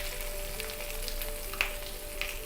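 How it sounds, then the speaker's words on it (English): A piece of fish fries in hot oil in a pan, giving a steady close sizzle with a couple of sharp pops standing out near the end, and no talking. "The second piece of the fish is there on the pan from the past 40 seconds."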